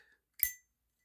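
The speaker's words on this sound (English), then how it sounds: "it's got a nice clunk" A lighter lid snapping shut, a single short metallic click with a faint ring, close and alone in otherwise quiet surroundings.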